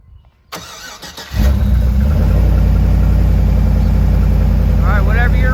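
A truck engine cranks briefly, catches and settles into a loud, steady idle close by.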